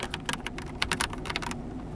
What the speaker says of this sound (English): we can basically test our entire keyboard and see whether some keys aren't working